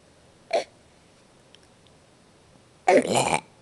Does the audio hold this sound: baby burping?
yes